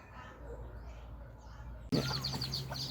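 Chickens cluck and chirp as a hen with her chicks is herded toward a pen, soft bird calls near the start and sharper, closer clucks after a sudden jump in loudness.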